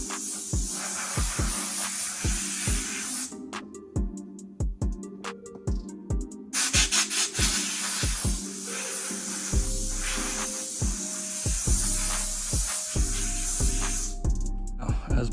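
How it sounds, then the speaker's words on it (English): Bursts of compressed shop air blast a K&N air filter from a BMW 335i N54 in short repeated hisses, with clicks and a low hum between them, fairly close and loud. "I'm just gonna blast it with some shop air"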